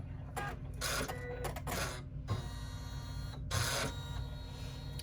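A computerized embroidery machine runs a short travel stitch across the hoop while making a channel-quilted clutch, giving fast mechanical needle bursts with brief pauses, steady and close with no talk.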